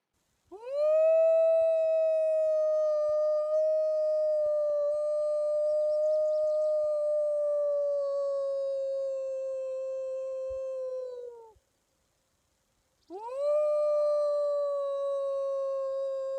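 A person outdoors in Yellowstone imitates a wolf howl: two long, loud, sustained wavering howls, the first lasting about eleven seconds, then a short pause before the second begins.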